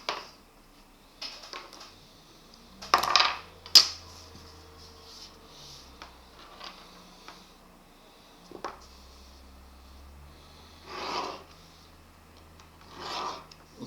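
Pen or pencil writing an equation on paper, heard as faint, scattered scratching strokes in short bursts separated by quiet gaps, close up.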